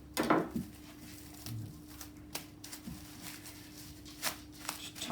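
Cling film pulled from a roll and cut for wrapping beef wellington in a kitchen, a few crinkly rustles and sharp snaps spread across the moment, moderately close and quiet.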